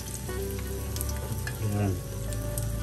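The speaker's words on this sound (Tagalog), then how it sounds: "piprituhin muna natin ng konti." Food frying in a pan, close up: a continuous bright sizzle with crackling spatter and a low steady hum underneath, with no voices.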